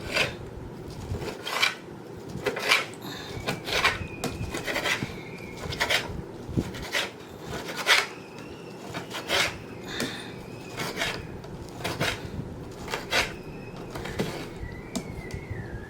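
Repeated rasping knife strokes cutting ginger on a wooden board, steady and rhythmic, close by, with faint background noise of children playing outside throughout.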